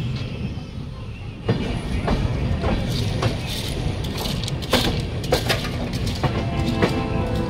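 Passenger train rolling past Kendrapara Road station toward the Mahanadi rail bridge, a continuous close rumble with repeated clickety-clack wheel beats and sharp rail knocks throughout.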